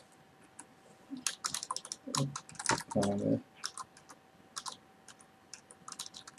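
Typing on a computer keyboard while setting up a virtual machine, with scattered close keystroke clicks in irregular bursts, including a few heavier presses in the middle, and a brief spoken word.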